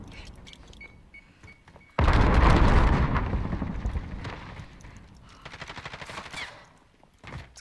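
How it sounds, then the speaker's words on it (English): Gunfire in the Modern Warfare 2019 video game: a loud, sudden burst of automatic shots starts after a quiet stretch and then continues as scattered rapid shooting, with faint background clatter around it. "Someone's behind you shooting."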